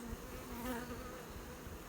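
A steady, close buzzing of many honey bees on a hive frame, continuous and fairly quiet with no voices.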